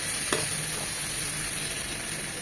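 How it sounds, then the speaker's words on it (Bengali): Mutton pieces fry with spices in oil in a pan for a tawa mutton roast fry, giving a steady, close, even sizzle with a faint stir-like scrape near the start. "তিন থেকে 4 মিনিট একদম এই তেলের সাথে ভাজা ভাজা করে নেব"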